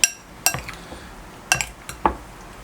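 A utensil gently stirring a rice vermicelli salad with canned fish in a dish, with a few separate clinks of metal against the bowl spaced over a couple of seconds, close and alone.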